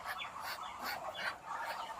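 Continuous outdoor chatter of many ducks on a farm, steady and fairly close, with overlapping quacks and calls and no talking.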